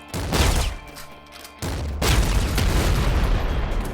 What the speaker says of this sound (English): I like the black cannon. So I like what it does to things.